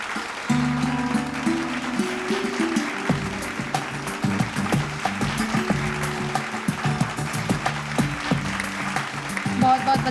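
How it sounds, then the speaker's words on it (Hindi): Audience applause greets an honoree at a Bihar awards ceremony, a steady wash of clapping lasting several seconds while a voice and low music carry on over it. "जोरदार तालियों से स्वागत करें"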